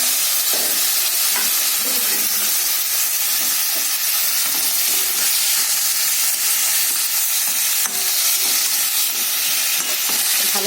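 Bottle gourd curry with hilsa being stirred in a hot pan, a constant loud hiss of frying with soft scraping strokes of the spoon throughout.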